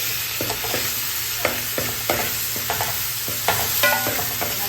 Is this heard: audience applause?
no